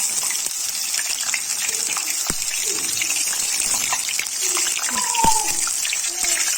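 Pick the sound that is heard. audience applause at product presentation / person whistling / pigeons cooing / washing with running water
washing with running water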